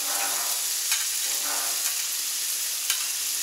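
Potatoes fry on a Camp Chef FTG600 flat top griddle with a steady, bright sizzle and a few sharper pops, heard close up and alone.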